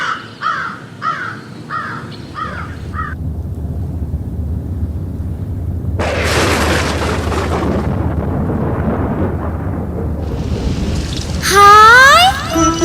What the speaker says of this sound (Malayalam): അമ്മേ ദേ മഴ പെയ്യുന്നു